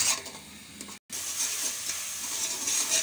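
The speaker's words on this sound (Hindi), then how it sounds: "जैसे प्याज फ्राई थोड़ा सा पकना शुरू होगा" Onions frying in a karahi give a bright, continuous sizzle with stirring scrapes, close and moderately loud, broken by one brief silent gap near the start.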